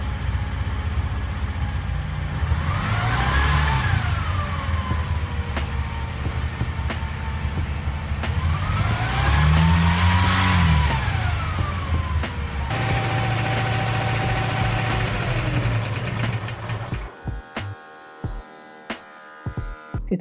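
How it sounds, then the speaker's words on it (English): A Zaporozhets car engine runs steadily with a low rumbling drone, rising and falling in pitch twice as it revs, then sputters and cuts out near the end. "I finally got the car running"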